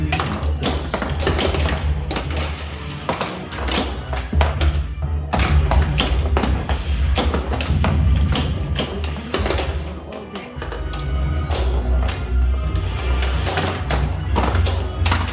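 Star Trek The Next Generation pinball machine in play, a dense run of sharp taps, thumps and clacks from flippers and ball hits over a steady mechanical hum, loud and close.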